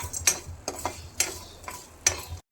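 Coconut, poppy seeds and coriander dry-roast in a pan over a full flame, giving a run of sharp scraping and stirring strokes with soft crackle, several distinct hits spaced through a short stretch, with no talking.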